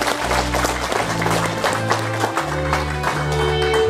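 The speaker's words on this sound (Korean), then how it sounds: "축하의 박수 보내주시기 바랍니다" Congratulatory applause at the 16th Nogeun-ri Peace Prize award ceremony, a steady wash of clapping mixed with loud, sustained low music notes playing throughout.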